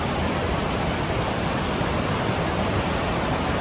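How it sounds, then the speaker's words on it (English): A waterfall in the Milford Sound fiord gives a steady, broad rushing roar, loud and unbroken, with no voices. "Not sure if there's a waterfall here."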